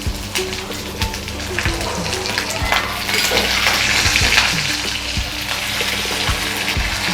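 Curry leaves fry in hot oil with ginger-garlic paste in a pan for Telangana pachi pulusu, a steady crackling sizzle with occasional stirring scrapes and faint background noise throughout.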